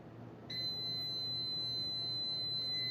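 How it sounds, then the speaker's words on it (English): A kitchen timer goes off while vegan teff pancakes are cooked, a steady high electronic beeping tone that starts suddenly and holds loud and continuous over a low hum. "And now the timer is ringing at me."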